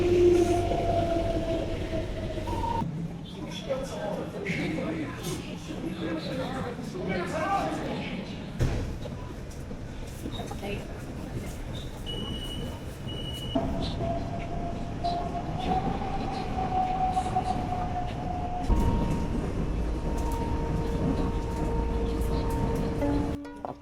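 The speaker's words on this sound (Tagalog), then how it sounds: "Sa LRT na tayo." A ride aboard an LRT train in Shanghai, with a continuous low rumble of the moving carriage, shifting hums and rattles, and a rising tonal whine from the motors, while people talk over the noise inside the car.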